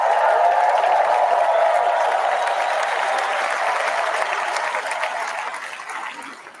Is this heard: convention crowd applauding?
yes